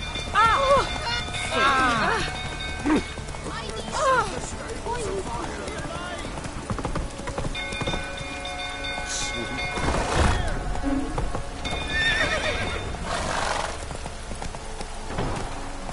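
Roach, a horse in The Witcher 3, moving at a steady clip-clop of hooves under continuous rain-like ambience and game music, with voices speaking over the hoofbeats.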